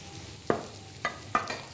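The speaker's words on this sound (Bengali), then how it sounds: "একটু কষানো হতে হতে সব সবজিগুলো দিয়ে দেব।" Vegetables with a little turmeric sautéing in a pan for a mocha and varali vegetarian dish, a faint low sizzle broken by three distinct spoon knocks against the pan, close and with no voices.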